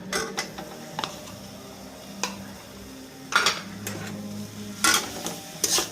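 A spoon stirring sandesh into melted jaggery in a pot, irregular scraping and knocking clatters with a few sharper bursts, close and moderately loud, no talk.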